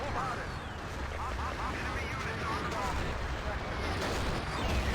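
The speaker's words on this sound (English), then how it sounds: "Another massive artillery coming down on the junkyard." A massive artillery strike lands on a junkyard in a 16v16 video game battle, a dense, rumbling barrage of booming impacts that continues throughout, with a voice talking over it.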